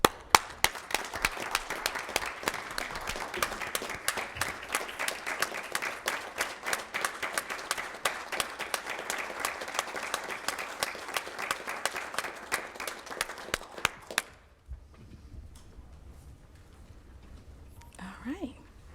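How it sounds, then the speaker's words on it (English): An audience at a Lynchburg city council meeting applauds with a dense, steady clatter of clapping for about fourteen seconds, then it stops abruptly, leaving a quiet room with faint murmuring. "we give you an applause every day"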